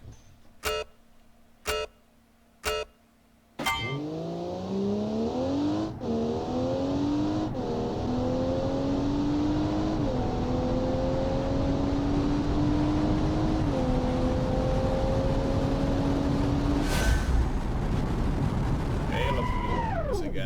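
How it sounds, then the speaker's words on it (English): Engine of a car in the driving game Automation, launched without launch control: a few short beeps of a start countdown, then a loud engine surges and climbs steadily through the revs with brief shift dips, running continuously to the end. "now I will launch without launch control"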